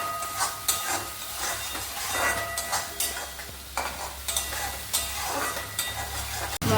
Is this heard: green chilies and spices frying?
yes